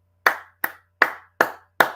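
Five sharp hand claps at a steady, slightly uneven pace, each a crisp close slap with a short decay, alone against a faint low hum.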